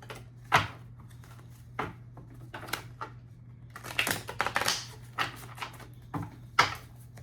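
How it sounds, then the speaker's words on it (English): Pile of tarot cards being shuffled by hand, a run of soft papery slaps and riffles in uneven clusters, close and fairly quiet, with no talking. "I'm now shuffling the Cancer pile."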